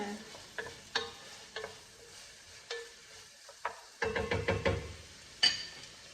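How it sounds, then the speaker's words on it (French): Vegetables and potatoes for a squash soup are stirred in a pot, heard as soft scraping and clinks of a spoon, sparse at first and then a quick cluster of knocks, over a faint sizzle. "Je vais les mélanger un petit peu pour commencer"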